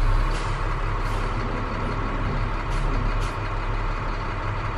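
Snow plow truck parked for a township winter prep check, engine running loudly and steadily throughout, with brief hissing bursts of its air brake releasing over the constant rumble.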